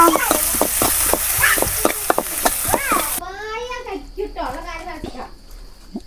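Shallots and curry leaves sizzling in hot oil as they temper, a loud steady hiss with stirring, joined by a voice talking over it.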